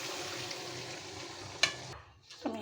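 Gravy hits a kadai holding rohu fish for an okra curry and sets off a dense, loud hiss of sizzling. After a sharp splash it cuts off suddenly near the end, leaving a brief softer bubble, with no speech.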